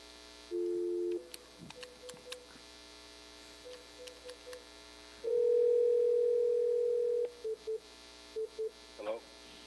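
Telephone line while dialing out to the next caller at a municipal assembly meeting: short steady electronic tones and beeps, one longer sustained tone midway, separated by near-silence with a faint hum.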